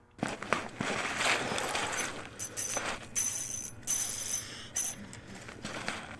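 Piscifun ICX 5 ice fishing reel's drag clicks in rapid ratcheting bursts as a pike pulls line, close and fairly loud, with uneven surges and short pauses between runs.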